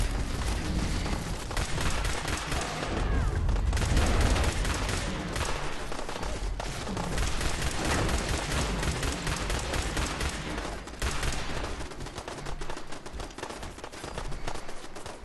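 Dense, continuous gunfire and explosive booms from a Fallout 4 firefight fill the whole stretch, loud and close, with volleys overlapping almost without a break.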